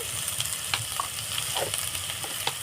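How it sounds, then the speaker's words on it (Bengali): Spice masala with turmeric powder and Kashmiri chilli powder frying in a pan for a prawn and taro-stem dish, a loud continuous sizzle with scraping stir strokes breaking through now and then. "ভালোভাবে মশলাটাকে কষিয়ে নেব"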